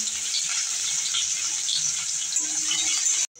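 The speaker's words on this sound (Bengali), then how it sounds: "এবার আমি দিয়ে দিচ্ছি পেঁয়াজটাকে আমি সোনালি করে ভেজে নেব" Onions fry in hot mustard oil already tempered with cumin seeds and asafoetida, giving a steady, loud, close hiss and sizzle that cuts off abruptly at the end.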